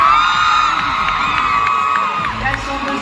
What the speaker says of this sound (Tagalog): Wow, yo, this crowd is blowing me away.